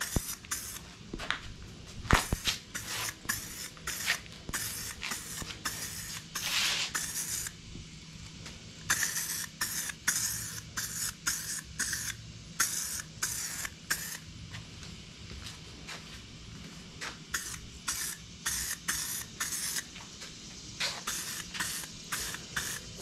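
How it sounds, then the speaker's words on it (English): Short hissing bursts of spray primer laid in light coats onto Bronco grill letters in a garage, repeated many times with brief pauses and faint mechanical clicks between. "Now it's going to do some primer, and it's going to do a couple light coats on with this."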